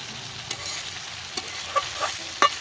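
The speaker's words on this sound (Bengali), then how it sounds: "ডাঁটাগুলো খুব ভালোভাবে কষিয়ে নেব" Vegetable stalks stir-fry in a pan, giving a soft steady sizzle with a few sharp clicks of the spatula against the pan, close and fairly quiet with no talking.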